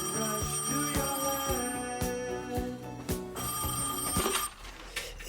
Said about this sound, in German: als das Telefon schon ganz früh am Morgen klingelte